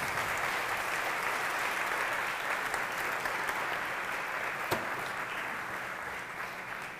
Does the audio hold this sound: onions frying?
no